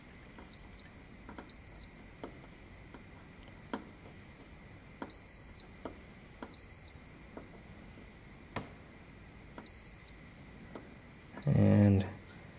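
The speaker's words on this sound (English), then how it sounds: "I'm just going to check the continuity on the front side and make sure everything is good." Repeated short electronic beeps from a multimeter continuity test on a Ms. Pac-Man arcade PCB edge connector, about eight clear tones spread irregularly across the stretch, each brief and steady, with faint ticks between them and a louder low thump near the end.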